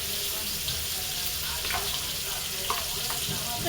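Goat spleen (tilli), marinated and cooked Old Dhaka style, fries in hot oil with a steady, close sizzling hiss and a few faint clinks and scrapes throughout.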